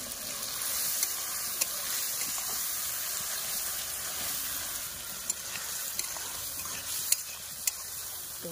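Chopped tomatoes hit a pan of browned onions and meat and get stirred, giving a steady close sizzle and hiss with scattered clicks from the spoon, and no talking.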